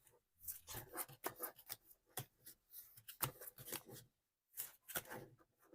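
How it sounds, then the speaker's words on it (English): Tarot cards are shuffled by hand during a live reading, a faint, close series of papery riffles and slides coming in short bursts with brief pauses between them, no voices over it. "Good shuffle."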